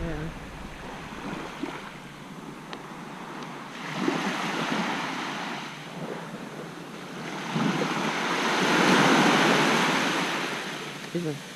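Waves washing onto the sandy beach at Magens Bay, St. Thomas, a steady broad surf roar that swells louder toward the end, with wind buffeting the microphone and some faint voices.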